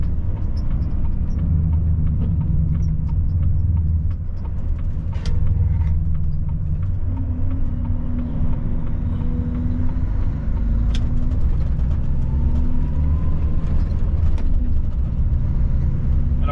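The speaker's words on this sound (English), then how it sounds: "you're going to hear some rattling. There often rattles on this road" A truck hauling 8 tons of steel drives a badly rough road to a nursery drop, its engine rumbling low and steady with a continuous background rattle and occasional sharper knocks and clunks throughout.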